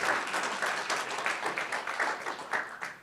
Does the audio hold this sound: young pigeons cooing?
no